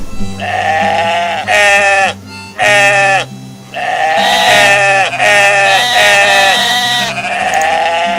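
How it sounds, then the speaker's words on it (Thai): Sheep on a farm in the video game Moirai bleat loudly and close, several long wavering calls in a row separated by brief gaps. "แกะเอ้ย เสียงแกะโคตรโคตรดัง"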